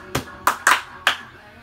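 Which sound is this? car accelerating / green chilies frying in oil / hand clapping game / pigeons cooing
hand clapping game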